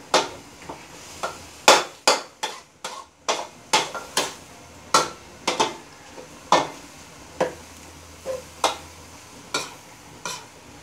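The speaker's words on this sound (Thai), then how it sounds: "ง่ายๆครับวันนี้ผัดกะเพรา" A metal spatula scrapes and clanks rhythmically against a pan while holy basil pork stir-fries, with roughly twenty sharp strikes over a faint sizzle and no talking.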